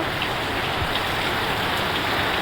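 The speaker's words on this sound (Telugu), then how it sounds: "బయట అయితే వర్షం ఫుల్ వస్తుంది" Heavy rain pours outside a village home, a dense, even hiss of drops drumming on surfaces that stays loud and unbroken throughout.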